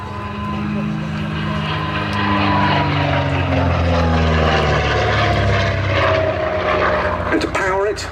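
A de Havilland DH 88 Comet with Gipsy Six R engines drones overhead at an air show, a steady propeller hum that builds and holds for several seconds with a faint voice talking underneath.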